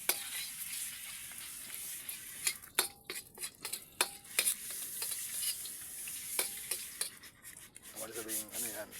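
Adobong sitaw fries in a hot pan with oil, a steady sizzle broken by frequent scraping and clinking of a utensil stirring against the pan, close by.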